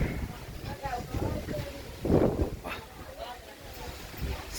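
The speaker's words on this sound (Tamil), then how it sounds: "செம்ம காற்று." Wind blows in a park at Tirupati, a steady rushing gust against the microphone that swells and eases, with people talking over it.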